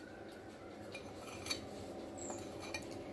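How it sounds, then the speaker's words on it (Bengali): A utensil beats eggs with black pepper and salt in a bowl, making soft, quick clinks and scraping taps. The whisking is quiet and continuous with a few sharper knocks against the side of the bowl. "এবার ভালো করে এটাকে ফেটিয়ে নেব"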